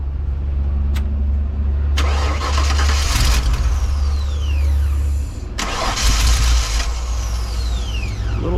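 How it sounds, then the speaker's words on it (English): A 1995 Ford one-ton truck's 5.8-litre 351 V8 engine, which has a no-start fault with fuel smell, cranks with a whirring starter, catches and runs, then is cranked and started again, loud and close throughout. "re-cranking the engine"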